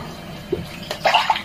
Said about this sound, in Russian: я тебя шампунькой какой намылил. Купаю тебя.